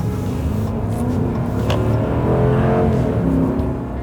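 Ram Power Wagon pickup with the 6.4-liter engine revving, a strong throaty roar rising and falling close by, continuous for a few seconds and heard alone without talk.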